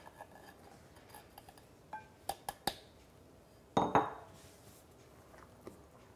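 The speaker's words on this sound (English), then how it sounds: "Then just mix until it's all combined." Flour being stirred into butterscotch blondie batter: a few sharp utensil clinks and taps against the bowl, then a louder scraping burst midway, with quieter knocks trailing off, close up and without any talking.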